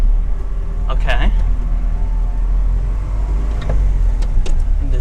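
A 1985 Honda Acty Street van with 4WD pulling away in gear, a steady close low engine rumble from inside the cab with a few clicks and knocks, while people talk over it.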